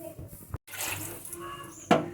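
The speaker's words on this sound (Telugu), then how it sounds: "ఒక గ్లాసు ఒకటి 2 గ్లాసులు వాటర్ పోసుకోవాలి." Water is poured into a pan of roasted semolina, a short splashing gush after a brief pause, followed by a sharp burst of sizzle and splash near the end, close and fairly clear.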